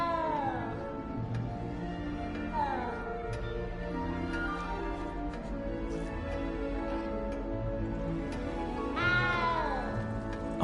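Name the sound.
frightened cat meowing in Hogwarts Legacy video game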